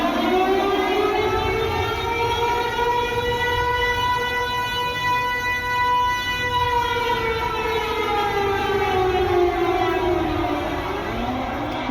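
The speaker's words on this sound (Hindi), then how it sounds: "जैसा कि आप सुन सकते हैं ये सायरन" An air raid siren warning of a coming blackout wails steadily and loudly for the whole stretch, its tone sliding slowly up and then down over a constant background rumble, with no talk.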